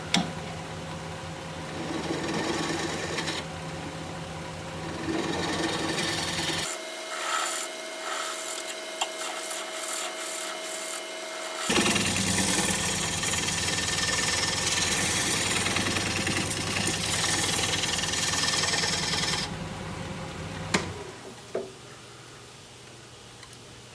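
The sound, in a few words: wood lathe turning wood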